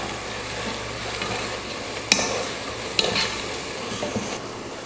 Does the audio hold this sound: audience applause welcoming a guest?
no